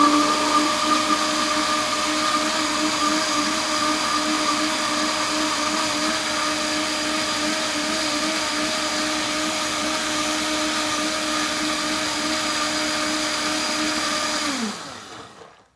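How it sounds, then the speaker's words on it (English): A Vitamix super blender whirs loudly and steadily while blending homemade barbecue sauce, a constant high motor drone holding for about fourteen seconds before winding down and stopping. "this is like a super blender. This is like Julie's Mega Vitamix."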